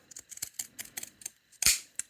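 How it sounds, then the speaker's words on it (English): Pinking shears trim the corner of a cushion cover's fabric with a run of close, crisp snips in quick succession, then one louder final cut, heard alone. "I'm just going to use my pinking shears"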